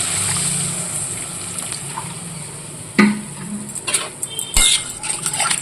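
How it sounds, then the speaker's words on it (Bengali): Water goes into a cooking pan with oil while spicy chicken is being cooked, giving a loud close hiss and splashing with a few metallic clinks and no talk. "এবার দিয়ে দেবো জল"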